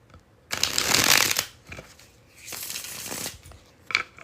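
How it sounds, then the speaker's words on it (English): A deck of playing cards is bridge shuffled up close: two bursts of rapid riffling clatter, each followed by the softer riffle of the cards bridging back together, then a brief tap of the deck. "One more bridge shuffle."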